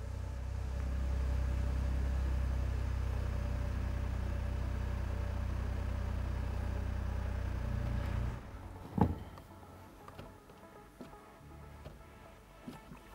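A car engine runs at raised revs while a diagnostic tool takes readings, a loud steady low hum that abruptly cuts off partway through, leaving a quiet room with faint clicks and small handling noises.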